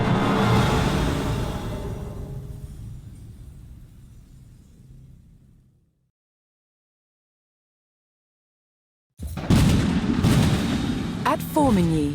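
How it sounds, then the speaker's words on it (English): Cannon fire at the Battle of Formigny in the Age of Empires 4 French campaign: a loud, rumbling barrage that fades into silence, followed by a fresh burst of booming artillery and battle noise. "the roar of cannon fire sounded the death knell for England's ambitions in France"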